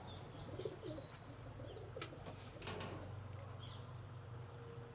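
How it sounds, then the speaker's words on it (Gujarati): Allahabadi pigeons in a fancier's loft coo softly among other pigeons, with a few brief flutters of wings and light mechanical clicks over a low steady hum and no talk. "ઇલાહાબાદી કબૂતર છે."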